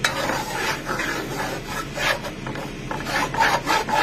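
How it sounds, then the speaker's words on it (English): A wooden spoon scrapes continuously through a dark roux for crab stew, cooking on medium-high heat, making a close, gritty rasping with irregular stirring strokes and no talking. "I cook mine on high to medium, but I'm right here stirring it constantly"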